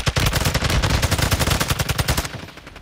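Rapid automatic gunfire from the Call of Duty: Modern Warfare II video game, a loud, dense burst of shots sustained for over two seconds before cutting off.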